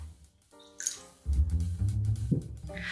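Cold water is poured into a pot for boiling eggs, a short close gurgle and splash that rises suddenly and fills the pot over a couple of seconds, with no talk.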